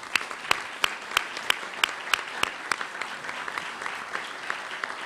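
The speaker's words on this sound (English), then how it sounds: "If you guys could stand up, we'll give you a round of applause." A room of luncheon guests at a journalism awards event claps for the award-winning reporters, loud close hand claps with several sharp individual strikes standing out over a steady crowd patter that thins slightly toward the end.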